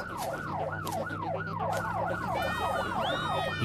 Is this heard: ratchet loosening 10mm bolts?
no